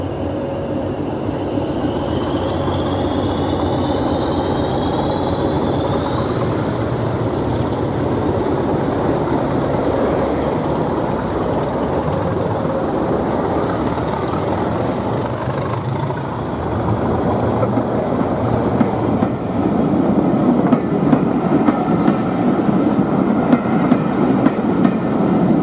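Rumbling Class 20 diesel locomotives and rolling train wheels, with a long rising squeal of wheels on rails as the train pulls away, loud and continuous.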